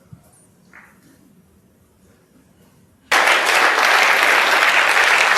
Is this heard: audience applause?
yes